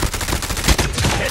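Gunfire in a Call of Duty multiplayer ranked match comes as a brief, dense burst of rapid shots, loud and close.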